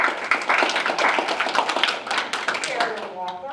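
Scattered clapping at a mayor's education and charity ball as committee members stand, steady uneven patter from a modest crowd mixed with a voice reading names.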